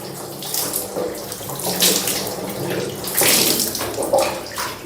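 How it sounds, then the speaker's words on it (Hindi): Water poured repeatedly over the head during a ritual bath, splashing and running down close by in steady, full gushes with brief swells, no voices over it. "अब 3 बार सर से पानी बहाना है।"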